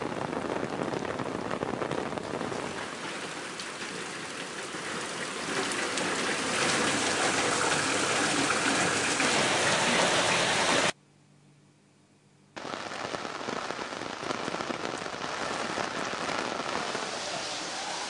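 Heavy monsoon downpour in the Konkan region, a dense steady roar of rain on surfaces that runs continuously, cuts out briefly, then returns just as loud.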